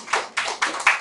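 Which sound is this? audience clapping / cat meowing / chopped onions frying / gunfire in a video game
audience clapping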